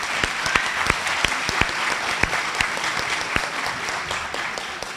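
Sustained applause from an audience at an education leadership awards ceremony, a dense steady wash of clapping with individual louder claps standing out near the front, continuing evenly for several seconds.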